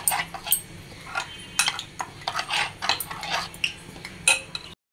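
A utensil stirs and scrapes food in hot oil in a pan, with irregular metallic clinks and scrapes over a faint low background, close by.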